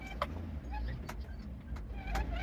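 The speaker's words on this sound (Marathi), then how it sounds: "गाडी सेकंडान आहा आनी चडटी आहा ही पळय" A car labours up a steep hill in second gear, its low engine drone steady and close, broken by a few brief clicks and rattles from inside the cabin.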